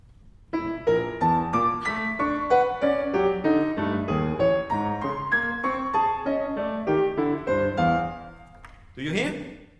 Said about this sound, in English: I play in canon with two notes different.